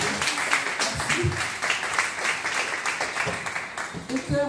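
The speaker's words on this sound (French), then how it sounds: "il y aura des applaudissements pour Madame Jacqueline Délébi, qui vous demande d'applaudir" Audience applause for Guadeloupean author Jacqueline Delépine at a literary café gathering, a moderate patter of many hands clapping continuously, with a voice briefly audible near the end.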